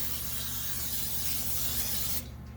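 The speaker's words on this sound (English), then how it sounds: "Spray that pan good." A continuous close aerosol hiss of cooking spray onto a pan for about two seconds, then cutting off abruptly.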